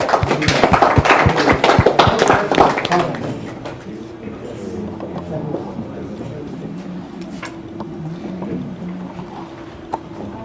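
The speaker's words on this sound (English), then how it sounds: "We clap our hands for this also." A group claps hands in a classroom, a dense burst of applause for about three seconds that fades into quiet room noise with faint murmuring and an occasional small knock.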